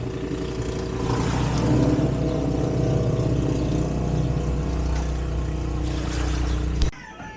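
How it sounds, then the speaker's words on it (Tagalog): Boat engines throb and drone at the Liminangcong harbour, a steady low rumble that continues without pause before cutting off sharply near the end. "Dami mga bangka dito."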